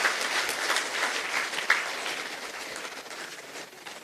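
Audience applause at the inauguration of a dialysis centre at a hospital in Coimbatore, a burst of dense clapping that gradually thins and fades over a few seconds, with no voices over it.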